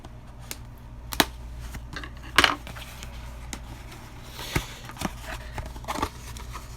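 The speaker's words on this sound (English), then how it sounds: "Cut open this tape like this." A safety cutter slices through packing tape on a cardboard box of baseball cards, producing a few short, sharp cutting scrapes and rips, separated by quieter handling rustles.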